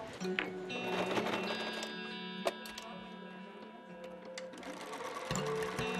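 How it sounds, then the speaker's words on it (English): A sewing machine runs steadily with a rapid mechanical patter and a few sharp clicks, sewing elastic and bias tape onto dresses, with faint voices underneath. "They will sew them down."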